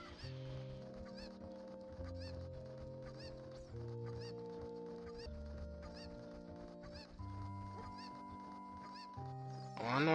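Cuccos, the chickens of a Zelda video game, cluck in repeated short bursts over steady tonal game music, with a rising burst of noise at the very end.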